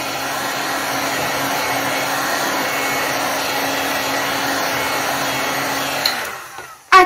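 Heat gun blowing steadily in a craft setting while paint is dried, a constant close airflow whine that cuts off near the end with a brief clatter.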